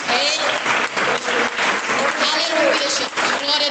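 A church congregation clapping during a sermon, a loud, dense rhythmic applause in steady bursts, with a voice speaking over the clapping.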